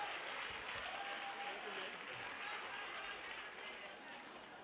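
An audience at the opening of the national arts festival at the Settlers Monument in Makhanda applauds in a soft, distant, even wash that slowly tapers, with murmured voices mixed in.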